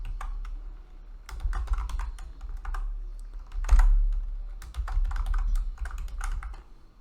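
A password is typed on a computer keyboard while a domain user account is set up for Citrix, a close run of quick, irregular key clicks in bursts with a few brief pauses and one heavier keystroke midway.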